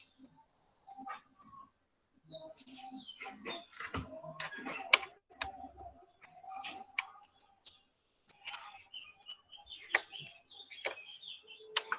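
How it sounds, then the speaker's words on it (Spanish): Small birds chirp in the background on and off, with bright, short tweets scattered through faint room sound and a few soft clicks. "hay unos pajaritos ahí en el fondo"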